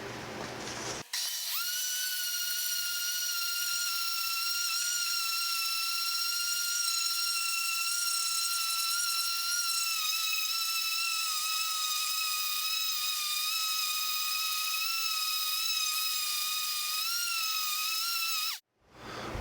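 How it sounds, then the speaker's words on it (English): Sanding a quilted maple guitar top with 400 and 600 grit sandpaper, heard as a steady, loud, high-pitched tool whine that runs unbroken for most of the clip before stopping abruptly near the end. "now I'm going to get some 400 and 600 grit and sand this off"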